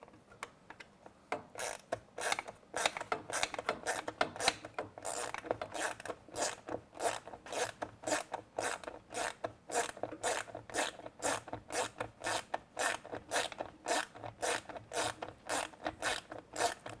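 A wrench ratchets steadily on nuts being run onto bolts underneath a piece of wiring work, giving rapid repeated clicking strokes in quick bursts, close and fairly loud, with no talking.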